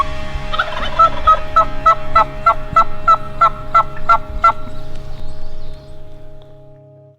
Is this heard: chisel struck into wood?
no